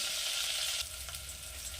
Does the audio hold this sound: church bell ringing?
no